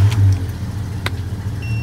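A Jeep engine running after a cold start, once hard to start and now fixed after a long fault hunt, gives a steady low idle rumble, close and fairly loud, with a couple of brief higher clicks.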